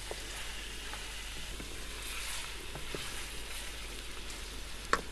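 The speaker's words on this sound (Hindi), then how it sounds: "तो यहाँ पे हम इसको कोई 1-2 मिनट भून लेंगे लहसुन और अदरक में।" Garlic and ginger paste frying with chicken in a karahi pan, giving a soft steady sizzle throughout with a few faint clinks, quiet and close.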